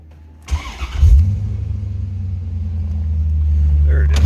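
The engine of a 1994 Chevrolet Corvette cranks briefly and catches, then settles into a loud, steady, deep idle rumble that swells slightly toward the end, recorded close up.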